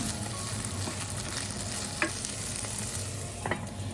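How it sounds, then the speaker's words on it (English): Green beans stir-fry steadily in a little hot oil over medium heat, with occasional scrapes and clicks of a utensil stirring the pan. "cooking them in a little bit oil over medium heat, stir fry constantly till they are fully cooked"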